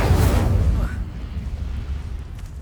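A fiery spell blast cast in the game Hogwarts Legacy: a loud, dense burst of rumbling, roaring energy that swells at once and fades over about a second into a lower game backdrop.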